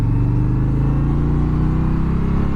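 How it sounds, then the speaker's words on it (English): Indian Challenger Elite motorcycle with a Power Plus engine, ridden at a steady pace, giving a loud, smooth low-pitched rumble with a slight rise in revs, close to the microphone. "And that Power Plus motor, man, it just purrs along."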